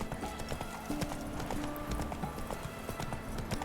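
Horse galloping in The Witcher 3 video game, rapid rhythmic hoofbeats pounding steadily over a busy game soundscape with a brief whinny-like tone, moderately loud throughout.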